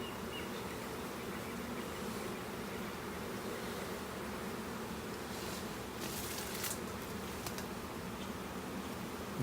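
Honeybees droning steadily around an open hive during an inspection, a constant close, even buzz with a few louder passes of individual bees near the end and no talking.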